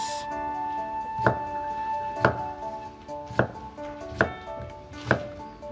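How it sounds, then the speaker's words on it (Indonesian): A knife slices a halved cucumber thinly on a cutting board for a stir-fried cucumber and egg dish, giving five crisp, evenly spaced chops over steady background music. "Baru kita iris tipis-tipis."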